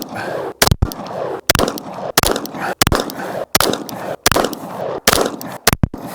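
A Wilson Combat Project 1 pistol fires at an outdoor range, about ten sharp, loud shots spaced irregularly around half a second to a second apart, each followed by a short echoing decay.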